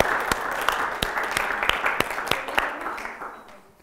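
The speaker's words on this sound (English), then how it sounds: "Applause for the volunteer." Audience applause in a lecture hall for a volunteer stepping up, a moderate crowd clapping with distinct sharp claps, thinning and fading out toward the end.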